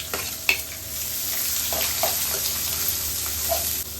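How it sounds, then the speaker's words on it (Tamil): Chopped onions and curry leaves sauté in hot oil for a goat head curry, giving a steady close sizzle broken by a few sharp scrapes and clicks of stirring. "வெங்காயம் நல்லா வதங்கணும் கோல்டன் ப்ரௌன் வதங்கணும்"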